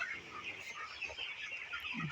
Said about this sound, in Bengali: এগুলো হচ্ছে আমাদের এখন ব্রয়লার মুরগির বাচ্চাগুলা